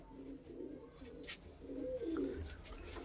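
Pigeons coo softly and continuously in a low, burbling chorus, with a faint chirp over steady background noise.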